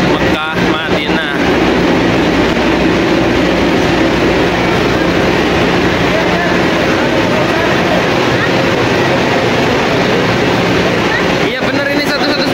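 Interior of the Mecca–Medina high-speed train in motion, a loud, continuous rumble and roar of the ride filling the cabin, with brief clatter near the start and end.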